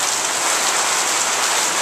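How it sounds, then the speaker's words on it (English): Heavy pouring rain in the Amazon falls steadily as a dense, even hiss on the surfaces around a small hospital, close and continuous with no voices. "Pouring rain."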